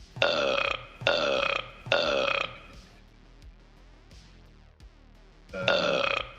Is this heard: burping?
yes